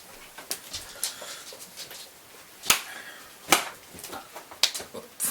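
Sharp hand claps aimed at flies, irregular and spaced apart, a few loud and close, with faint softer rustles and taps between them.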